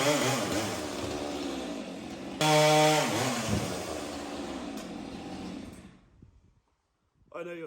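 A chainsaw roars steadily as it cuts through the last section of a log, loud and close, its pitch shifting under load before it cuts off into near silence, followed by a short burst of noise at the end.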